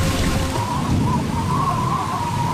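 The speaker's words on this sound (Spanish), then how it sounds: "Una copiosa lluvia inunda un pequeño aeropuerto en Dubrovnik" Heavy downpour at a small airport in Dubrovnik, Croatia, a dense, continuous roar of rain with deep low rumble and a faint whining tone drifting through it, loud and unbroken throughout.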